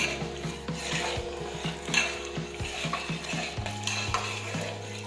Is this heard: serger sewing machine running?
no